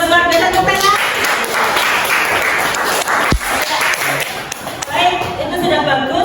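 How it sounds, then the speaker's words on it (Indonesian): A group in a classroom gives a round of applause, a steady wash of clapping that runs loud through the middle, with voices speaking over it at the start and end. "tepuk tangan"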